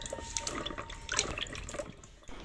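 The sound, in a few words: washing radishes in running tap water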